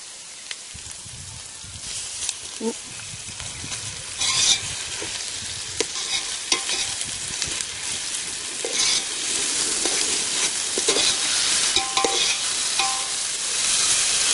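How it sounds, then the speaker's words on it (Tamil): Ginger garlic paste and onions sauté in a pan for a village-style plain biryani, with a steady close sizzle and frying hiss broken by repeated scraping stirs, no voices. "வெங்காயம் நல்லா வதங்கிடுச்சு அது கலர் மாறின உடனே நம்ம இந்த இஞ்சி பூண்டு பேஸ்ட்டை எடுத்து போட்டுக்கலாம்"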